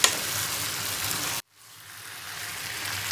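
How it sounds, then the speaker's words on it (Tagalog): Moringa pods being stirred in a hot pan: steady broadband sizzling and frying, cut off by a brief silent gap before the sizzle resumes and slowly builds again. "ilalagay ko na po ang bunga ng malunggay. Yes. So, hahaluin ko po siya."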